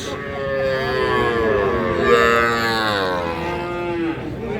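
Cattle at a rural livestock market in Parbatipur, Dinajpur, including young bulls and heifer calves, with one long drawn-out moo rising and falling close by over a steady crowd murmur.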